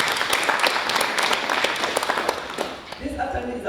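An audience at a teachers' awards ceremony claps, a dense crackling burst of applause that fades after about three seconds as a speaker's voice takes over.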